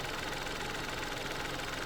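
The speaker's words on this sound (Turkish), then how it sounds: "Motor 3 silindirli. O yüzden biraz titreşimli çalışıyor rölantide." A Peugeot 308 1.2 PureTech three-cylinder turbo petrol engine idles with a steady, slightly uneven vibrating hum, heard close and alone at a constant moderate level.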